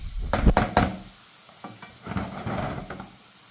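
Ingredients sautéed in a pan for Turkish poured-dough soup: close spoon-stirring scrapes, a few loud ones at first, over a soft continuous sizzle, with no talking.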